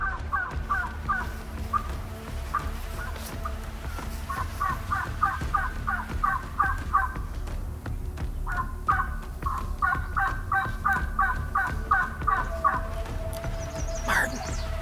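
Wild turkeys in New Brunswick gobble repeatedly in bursts of rapid, throaty calls, fairly close, over a quiet outdoor background.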